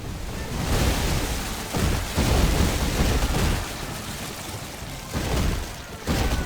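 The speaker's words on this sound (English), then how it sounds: "I think the explosion should die down soon." Explosions roar through a fantasy strategy game battle against dragon invaders, heard as dense, rumbling blasts that swell and ebb in several surges.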